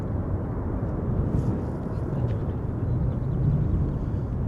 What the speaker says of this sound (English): Now I'm hearing a lot of noise from the center runway. Something heavy is taking off.